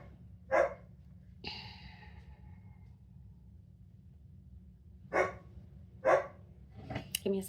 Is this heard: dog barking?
yes